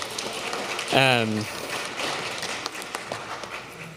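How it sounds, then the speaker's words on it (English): A church congregation claps in a steady, crackling patter that fills the whole stretch, with a single voice briefly whooping over it near the start. "give yourselves a round of applause for that"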